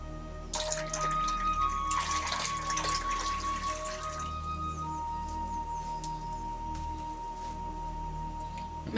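Dye solution is poured into a bowl of cold water, a steady close splashing, running-water sound that is strongest for the first few seconds and then settles into a softer continuous trickle.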